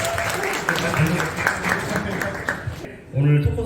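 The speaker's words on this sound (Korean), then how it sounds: "큰 박수 부탁드리겠습니다" Audience applause at a talk show for business owners welcoming the talk host, heard as scattered clapping mixed with talking and other room noise, ending in a louder burst.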